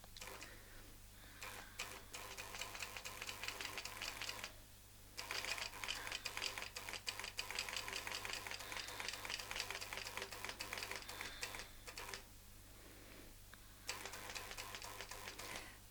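A longarm quilting machine stitches around a quilting template in a fast, steady mechanical chatter, close and continuous, with a couple of brief pauses and a constant low motor hum beneath.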